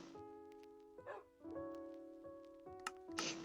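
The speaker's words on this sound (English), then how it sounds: "Those dogs have been barking the entire game." Dogs bark and yip in short, repeated bursts in Minecraft over a steady humming tone, fairly faint and in the background.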